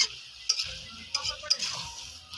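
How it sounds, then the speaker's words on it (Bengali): Stirring a potato, eggplant and lentil-dumpling curry with greens in a pan: light utensil scrapes and clicks against the pan, a few sharper taps, over a soft low bubbling simmer. "আমি এখন তরকাটা ভালো করে নাড়াচাড়া করবো"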